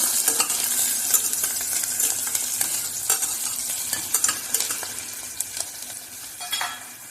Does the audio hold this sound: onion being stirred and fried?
yes